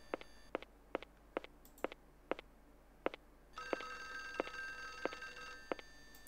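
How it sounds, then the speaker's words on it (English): Telephone ringing in the video game Clock Tower for Windows 95, a repeating electronic ring in steady, evenly spaced pulses that grows brighter and fuller midway, with no talk. "I wish we could make the telephone stop ringing."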